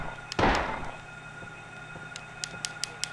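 A single loud gunshot rings out in the Silent Hill video game, followed by a decaying echo and then several faint, sharp clicks.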